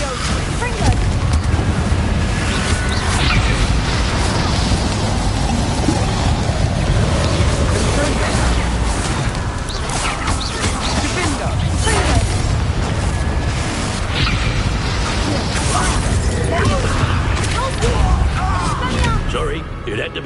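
Booming fire-spell blasts from a Hogwarts Legacy wizard duel, loud and continuous with dense rumbling explosions layered under a speaking voice throughout.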